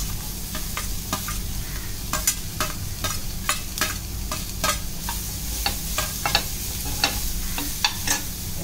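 Onions sautéing in a pan with green chillies and chaat masala for a dub roti breakfast, a steady close sizzle broken by repeated sharp scrapes and clacks of stirring at an uneven rhythm, with no talk.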